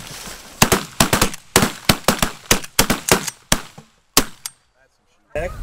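Shotgun blasts ring out during a goose hunt, about a dozen loud, sharp reports fired in a rapid volley from several guns. They then fall silent, and one more shot cracks near the end.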